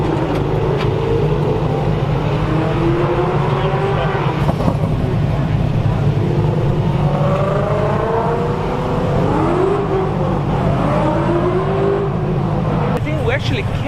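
A Spyker C8 sports car at a Cars & Coffee meet runs loud and close, its engine holding a steady growl with repeated rising rev sweeps as it pulls away.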